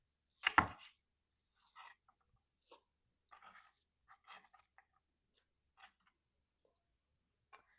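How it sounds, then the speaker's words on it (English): A knife chops dandelion greens into bite-sized pieces on a board, one sharp thud followed by a scattered series of light, quick cuts with gaps between them, close and otherwise quiet. "our dandelion, which I'll just quickly chop that up into bite-sized pieces"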